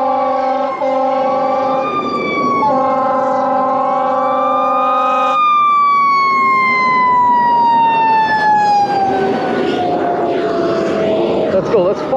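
Emergency vehicle siren wailing up and down in loud sweeping tones, with a second pattern cutting in partway, heard close while following on an electric bike on the road, with road and wind noise and faint talk underneath.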